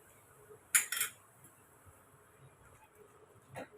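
A utensil clinks against a pan as rice flour is stirred into boiled milk, with two sharp metallic scrapes close together near the start and one fainter clink near the end, quiet between.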